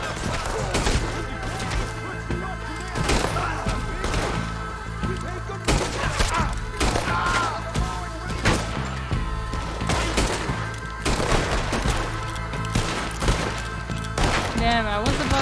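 Repeated gunshots crack out in a steady stream of close bursts during a Red Dead Redemption shootout, layered over a continuous bed of game music and ambience.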